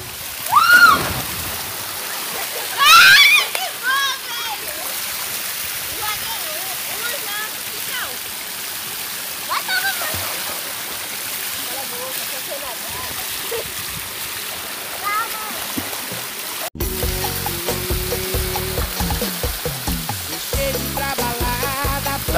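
Steady rushing water pours continuously over a dam in Pimenteira, a broad wash of splashing noise with voices talking over it at times.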